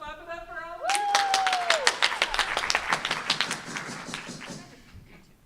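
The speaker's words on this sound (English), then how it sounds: "Let's clap it up for all." A small group claps at a Rotary Club of Tucson meeting, the sound rising at once after a brief voice and holding as a dense patter of separate claps before tapering off near the end.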